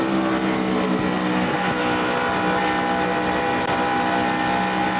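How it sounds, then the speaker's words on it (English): NASCAR stock car engine at the 2005 Coca-Cola 600, with the driver modulating the throttle; a loud, steady engine roar with fluctuating pitch continues throughout without a break. "You can hear Ricky having to play with the throttle."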